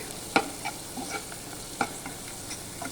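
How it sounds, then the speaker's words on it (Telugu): Turmeric is stirred into ginger and garlic frying in oil for a broad bean (chikkudukaya) curry. A quiet, steady sizzle carries two sharp spoon scrapes against the pan and softer stirring taps, with no voices. "తగినంత పసుపు వేసిన తర్వాత కొంచెం కలుపుకోవాలండి."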